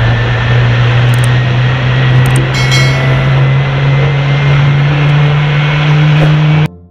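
A toy airplane gives a loud, steady mechanical drone with a strong hum that runs unbroken for several seconds, then stops abruptly at the end, with a few faint clicks over it.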